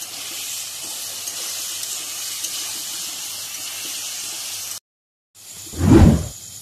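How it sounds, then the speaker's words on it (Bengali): Water is poured into a pan of Bengali aloo posto (potatoes with turmeric and salt), with a steady hiss and splash for several seconds, a brief silence, then a louder close burst of water. "অল্প পরিমাণে জল দিয়ে সেদ্ধ করতে দেব, ঢেকে রেখে দেবো জল দিয়ে।"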